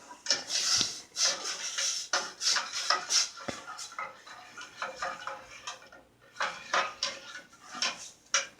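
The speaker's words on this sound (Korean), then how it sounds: "잘 저어줍니다" A spoon scrapes and clinks around a pot of chili cheese instant noodles in a quick, irregular rhythm, with close metallic taps and gentle rubbing between short pauses.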